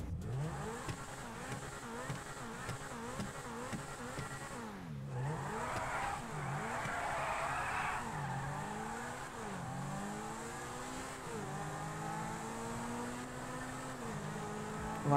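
An Alpine A110 car mod in GTA 5 revs and accelerates through rising and falling engine sweeps, with a brief gap and a gear-change surge, loud and continuous.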